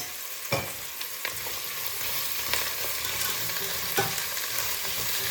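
Onions frying in a pan with salt while being stirred, with steady sizzling and a few sharp scrapes and clanks of the utensil against the pan, close and with no talk.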